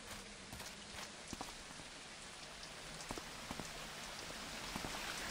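Steady rain falls in a Thief fan mission, a dense, even hiss of drops with scattered sharper patters and taps, fairly quiet and continuous throughout.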